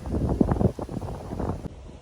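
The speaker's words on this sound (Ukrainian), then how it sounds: "Так, дуже вітер" Strong wind buffets the microphone in gusty low rumbles, loud and close, with a brief dip near the end.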